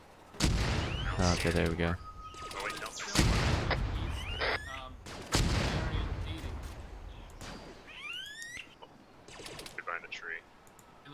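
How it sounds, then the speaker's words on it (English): Gunfire and explosions ring out during a video game campaign mission, several loud bursts and booms spread through the scene with someone talking over them between shots. "Let's see if I can see the explosions here."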